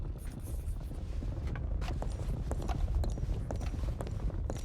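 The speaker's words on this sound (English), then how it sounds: "there's obviously a game mechanic point where it triggers a different sound for the sound of horses" Horse hooves clip-clop over a steady noisy outdoor bed in the video game Red Dead Redemption 2, many horses moving together at a walk, with irregular close footfalls and no talk.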